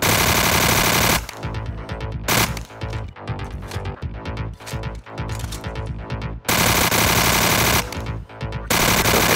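Rapid automatic gunfire in the first-person shooter Banzai Escape 2: Subterranean, loud dense bursts of shots with brief gaps between volleys, no talking.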